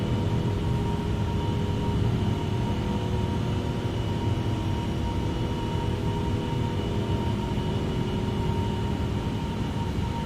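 Airbus A350-900 jet engines at takeoff thrust in the X-Plane 11 flight simulator, a steady, loud, broadband roar with a constant droning hum that holds unchanged throughout.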